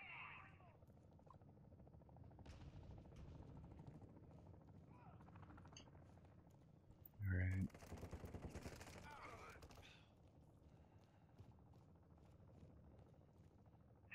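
Gunfire in the Call of Duty DMZ game on Ashika Island rings out as a short burst of loud shots, followed by a spell of rapid crackling fire against a low background rumble.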